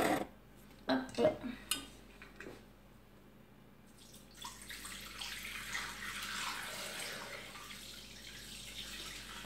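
Water poured into a food processor bowl while making dough for Japanese-style jiaozi dumplings. A few sharp knocks come first, then a steady, moderate rush of pouring water builds and continues.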